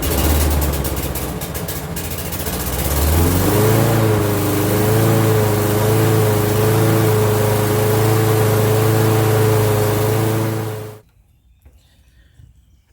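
A lawn mower engine with a newly replaced carburetor sputters, catches and settles into a loud, steady running drone with a clear rising pitch, then cuts off abruptly into near silence.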